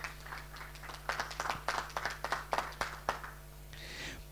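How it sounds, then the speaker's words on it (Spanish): Sparse applause from a small audience at an academic forum, a handful of distinct, fairly quiet claps in uneven rhythm over a low electrical hum, fading into light clatter at the end. "por favor un aplauso para todas las personas que están presentes aquí"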